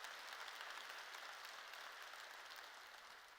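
A church congregation bursts into steady, dense clapping that gives glory to God during a sermon, a continuous wash of many hands fading slightly toward the end, with no voices on top.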